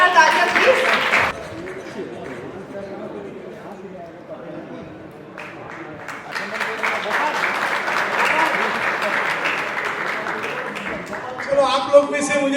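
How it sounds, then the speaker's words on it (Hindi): An audience at a stage event for the Indian TV comedy Taarak Mehta Ka Ooltah Chashmah breaks into applause as a cast member is called up. The clapping bursts are loudest at the start and mixed with a host talking over the crowd. "जोरदार तालियां प्लीज"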